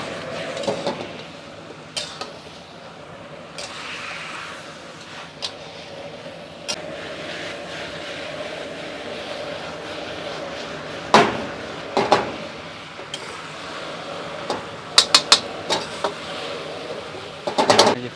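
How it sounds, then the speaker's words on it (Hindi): Korean fried chicken being tossed in a pan over a high flame, with a steady background hum broken by sharp metallic clanks and scrapes of utensil on pan, bunching together toward the end. "इसको सारों को इस तरीके से हाई फ्लेम पे मिक्स कर लें।"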